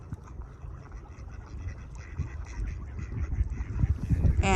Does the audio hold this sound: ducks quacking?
yes